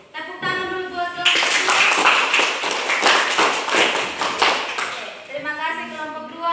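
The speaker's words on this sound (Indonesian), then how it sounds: "tepuk tangan dulu buat kelompok" Classmates clap for a student group after it presents a simple salt-water egg experiment; a sustained burst of close, crisp clapping sits between stretches of a voice talking before and after.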